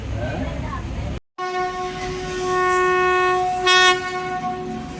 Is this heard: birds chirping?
no